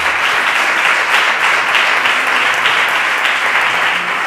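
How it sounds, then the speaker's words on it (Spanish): Sustained, dense applause from an audience at a panel session on health in physical education fills the whole stretch, loud and even from start to finish. "Les damos un aplauso"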